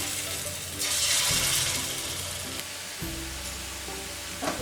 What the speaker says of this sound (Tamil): இப்போ ஒரு பேன் வச்சு அதில் கொஞ்சம் ஆயில் ஊற்றிருக்கேன் நம்ம இதை போட்டு ஃப்ரை பண்ணிடலாம்